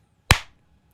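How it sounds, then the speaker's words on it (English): One sharp hand clap, close and crisp, sounds alone against near silence and fades within a fraction of a second. "So if I clap my hands"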